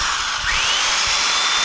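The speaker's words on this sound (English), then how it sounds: "I'm just going to rip into this and I'm going to take all of this excess off" Makita belt sander grinding excess resin off a workpiece, a steady close, loud high whine with a rising pitch sweep partway through, running alone without pause.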